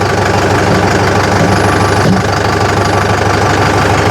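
A tractor engine runs steadily at close range near a harvesting machine, a loud, continuous idling rumble with a knocking vibration throughout.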